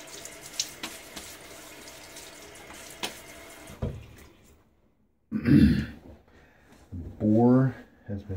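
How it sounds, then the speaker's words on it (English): A bathroom sink tap runs while water is splashed onto a face before a wet shave, with a light trickle and sharp wet splashes in short bursts. Someone talks and clears his throat between them. "now just splash some water, prep my face"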